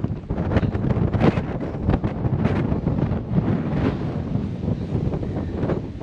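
Gusty wind buffets the microphone outdoors in a garden, a loud, close, low rumbling roar with uneven bursts and no speech.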